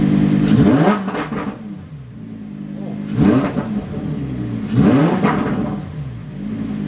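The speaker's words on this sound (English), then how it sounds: "Rev it up in Corsa mode." A Lamborghini Huracan V10 in Corsa mode revs hard three times in close succession, each blip climbing sharply and falling back to a loud, burbling idle, close by with no one talking.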